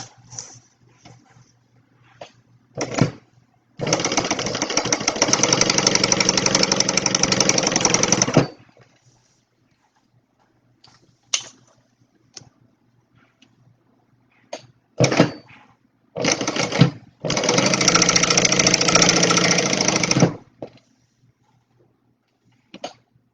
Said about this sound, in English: I'm going to go ahead and baste these edges down